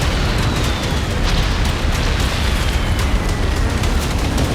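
Explosions from Russian strikes on Ukrainian cities, a dense, continuous roar of booming blasts and rumbling that stays loud throughout, with no voices.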